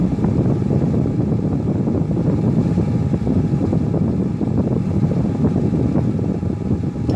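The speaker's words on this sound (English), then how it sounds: "because the compressor's on" A car's A/C compressor runs at idle, a loud, steady low rumbling drone with faint mechanical whirring layered over the engine, continuous and unbroken, with no voices.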